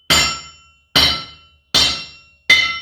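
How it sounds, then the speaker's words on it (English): A hammer strikes an unmounted anvil four times at an even pace, each blow a loud bright clang that rings on and decays before the next. "so you can kind of gauge how effective the stand is at reducing the ring"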